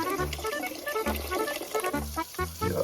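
Pabst Blue Ribbon beer poured into an octopus dish gives a close, continuous liquid gurgle and splash, with low bubbling pulses throughout.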